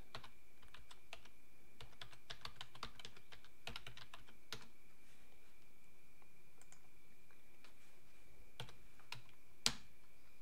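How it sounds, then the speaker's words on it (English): Sparse keystrokes on a computer keyboard while signing in to Microsoft Teams on Linux, a few scattered clicks across a quiet room with long pauses between them and one sharper tap near the end. "Oh, I need to type that in again."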